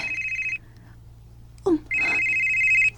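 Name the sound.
telephone ringing with incoming call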